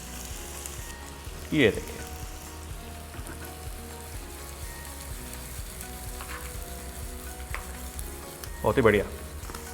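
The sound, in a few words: cumin, garlic, green chilli and onion sizzling in hot ghee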